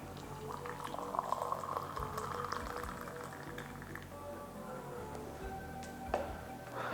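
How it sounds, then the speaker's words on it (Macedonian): Boiled water, about 500 ml, poured over a spoonful of Bogorodichno nane herb in a cup, a faint steady bubbling and liquid rush with light clinks. "Потоа се попарува со 500 мл зовриена вода."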